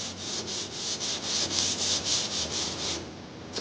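Flat sanding block rubbing over body filler on car paintwork being repaired, a close, rhythmic scratchy hiss repeating about every quarter second in steady back-and-forth strokes, with no voices.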